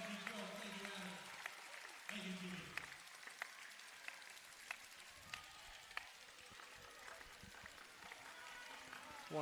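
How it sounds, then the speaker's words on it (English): A boisterous home crowd at a women's NBL1 East quarter-final basketball game between Albury Wodonga and Sutherland cheers and claps steadily, with sharp sneaker squeaks and thuds cutting through and a commentator talking over the noise. "The crowd boisterous here."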